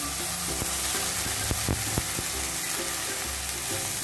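Ginger-tomato masala sizzles and fries in a pan, a dense crackling hiss broken by a few sharp pops and stirring knocks, with no one speaking.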